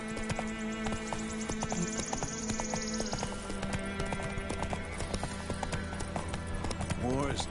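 Roach, the horse in The Witcher 3, gallops with quick, rhythmic clip-clop hoofbeats close by, over game music, with a brief whinny near the end and characters talking over the hooves.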